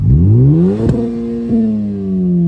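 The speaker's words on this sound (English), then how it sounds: "NVIDIA exhaust note for you guys. That is so crisp. Gives the car a nice rumble." A Honda Civic FK8 Type R with an NVIDIA aftermarket exhaust revs up loud and close, with a sharp throttle blip, then eases into a steady, droning exhaust rumble that slowly falls in pitch.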